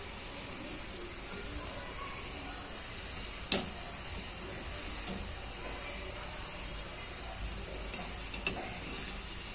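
Medu vada, fritters made from urad dal, fry in hot oil with a steady, soft sizzling hiss. A couple of sharp clicks break through the sizzle.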